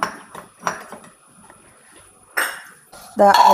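A metal frying pan clanks onto a kitchen stove near the end, with a few lighter utensil clinks and soft voice sounds before it.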